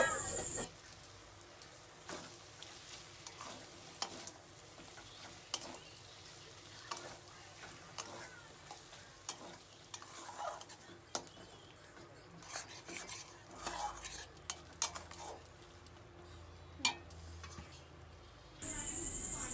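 Green chillies and white mustard stirred in a pan with oil, faint sizzling under repeated scraping and clinking of a utensil against the pan, fairly quiet and close.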